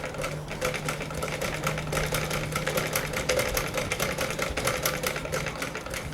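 A sewing machine runs steadily through a stitch test after being adjusted to its maximum stitch length, its rapid needle rattle and motor hum continuous and close with no talking.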